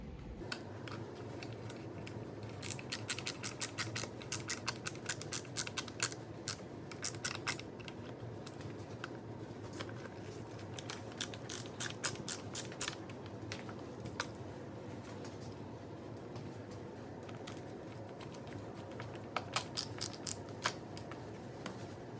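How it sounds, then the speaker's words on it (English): Self-tapping screws being driven into drilled holes in aluminum KTM ProBend handguard bars on a 2020 KTM 300 XC-W, giving bursts of rapid clicking, ratcheting mechanical ticks close by over a low steady background, with no talking. "these are self-tapper screws. So you'll have to let them tap their way into the hole."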